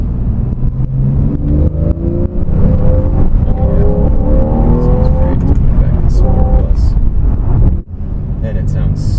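Engine of a 2012 Porsche 911 Carrera pulling hard while driving, a loud rising and falling rev heard from inside the cabin with wind noise, near and continuous.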